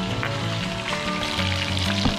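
Food fries in hot oil in a Filipino catch-and-cook kitchen, with a dense, continuous sizzle and crackle that stays loud and steady throughout and no voices.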